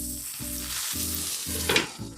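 Meat and vegetables sauté in a hot pan, a steady close sizzle with rhythmic stirring scrapes and a brief sharper clink near the end, no voices.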